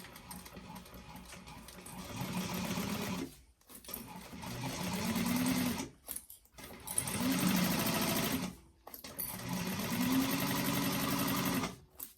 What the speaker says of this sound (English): we are going to stitch along this bottom edge with 1/4 inch seam allowance